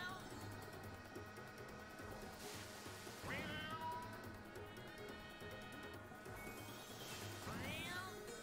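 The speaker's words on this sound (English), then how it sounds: "Kind of sound like a cat. Like an alley cat." Cat-like meowing sound effects from the Mario Kart Tour racing game, two rising yowls like an alley cat over continuous game music and engine noise, with a voice talking faintly underneath.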